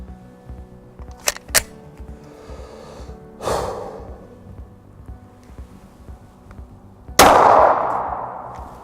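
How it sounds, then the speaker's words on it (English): .40 caliber Federal Hydra-Shock hollow point rounds fired indoors in an office-style test setting: a couple of sharp close cracks early on, then a softer burst and one loud shot with a lingering echo. "the next round we're going to fire is our first hollow point, 40 caliber Federal Hydra-Shock"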